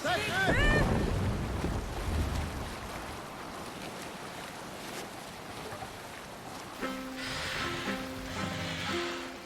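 In Assassin's Creed Valhalla, a longship sails through steady wind and rushing water. The broad, continuous whoosh is joined by faint voices and tonal game sounds near the end.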